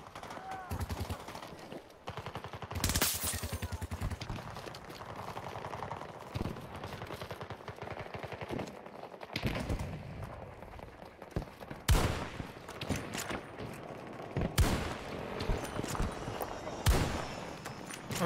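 Gunfire in Battlefield 2042, with sharp shots and short bursts scattered throughout at varying loudness over a busy game soundscape, with some talk in the background.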